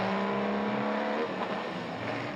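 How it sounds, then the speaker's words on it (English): A 12-cylinder 1954 Ferrari engine drones steadily as the car runs down the road, its revving tone shifting midway as it passes, loud and alone with no voices. "when you hear a 12-cylinder Ferrari coming down the road, you know it."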